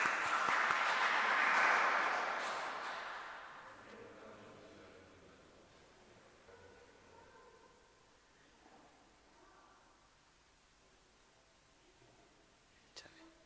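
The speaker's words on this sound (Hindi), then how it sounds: "जोरदार तालियों में, जोरदार तालियों में।" Loud applause from a church congregation during a Sunday Eucharist, a dense burst of clapping in the first few seconds that fades away, leaving quiet room tone and faint murmuring.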